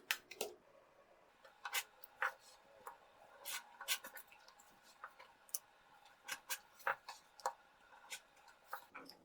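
Trimming a paper-pieced quilt block subsection along a ruler, a faint series of irregular crisp snips and taps, close and quiet, with no voices.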